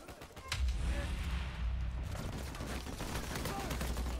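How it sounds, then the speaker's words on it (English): A grenade blast in Uncharted 4 multiplayer: a loud, rumbling burst begins shortly after the start and rolls on with dense crackling and low booms, mixed with gunfire-like noise. "Grenade."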